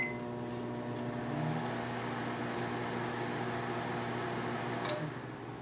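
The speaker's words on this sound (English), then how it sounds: "Just put it in our moderately dirty microwave." A moderately dirty microwave oven runs with an Xbox game disc inside, a steady electrical hum with tonal buzz and a few faint ticks and crackles, close and continuous with no talk.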